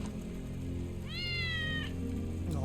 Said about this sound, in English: Oh, look at the kitty.